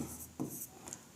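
A pen writes numbers on paper in quick scratchy strokes, a few short close scribbles over about a second.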